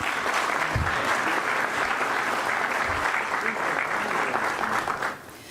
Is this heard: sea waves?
no